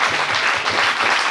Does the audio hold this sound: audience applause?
yes